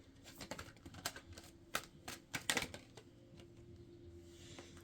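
Tarot cards being shuffled by hand, a run of soft papery riffles and light clicks in a quiet room, with a few sharper card snaps in the middle before it settles to a faint hiss.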